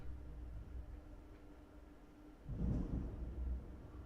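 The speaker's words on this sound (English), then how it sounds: "There's some thunder." Thunder rumbles outdoors in the distance, a low swell building in the second half of the clip over steady background noise.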